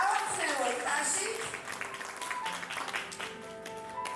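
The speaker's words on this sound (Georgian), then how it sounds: "დავამხნევოთ ტაში." Audience clapping at a children's celebration event in Georgia, a burst of applause that tapers off, with a voice speaking over it.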